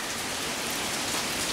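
Rain falls steadily outdoors as a dense, continuous patter of drops on surfaces, moderately loud and unbroken, with no one talking.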